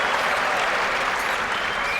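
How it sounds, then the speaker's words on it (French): A crowd's frenzied applause roars as a thick, unbroken mass of clapping, loud and close, sustained evenly across the whole moment with no speech. "Les applaudissements devenaient frénétiques."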